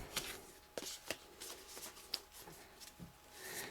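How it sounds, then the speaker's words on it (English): Angel and Ancestors oracle cards being shuffled by hand, a close run of soft riffling flicks and slaps in quick uneven bursts with no voices. "So I'm shuffling an Angel and Ancestors Oracle card"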